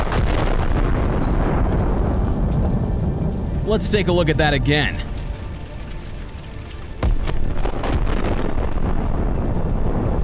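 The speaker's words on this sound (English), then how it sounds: "A massive explosion turns the APC into dust." An APC's burning ammunition erupts in a massive explosion, a loud sustained roar and rumble with crackling bursts, followed by someone talking.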